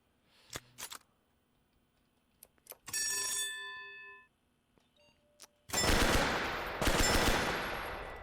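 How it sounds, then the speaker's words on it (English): Gunfire from weapons in the Spectra video game demo: a few sharp isolated shots, then a ringing burst with a metallic tail, and a loud, sustained volley of rapid automatic fire near the end, with no talking. "The guns are just so loud"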